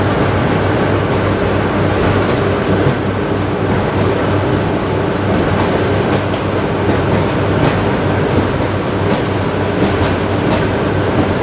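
A passing train roars loudly on a curving main line near Lytham, its wheels clacking and rumbling steadily throughout with no break and no voices.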